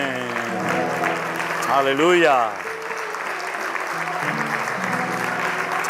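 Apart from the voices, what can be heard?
congregation applause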